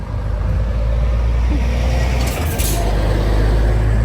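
A vehicle rumbling along a residential street, a continuous low engine drone with a brief hiss partway through, close and steady.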